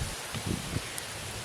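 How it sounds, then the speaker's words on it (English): Rain falls on a garden bed during garlic clove planting, a soft, even hiss of drops close by with a few faint low thumps and no talking. "Here comes the rain."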